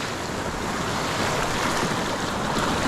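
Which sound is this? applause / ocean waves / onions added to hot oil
ocean waves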